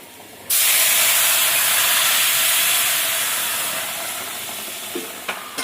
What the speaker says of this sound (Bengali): এখানে রসুনটা একটু ভেজে নেবো রসুনটা দিচ্ছি